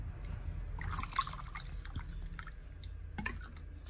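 Water is poured into a cooking pot for Korean tteokbokki, a soft trickling splash with scattered drips, faint and close with no talk.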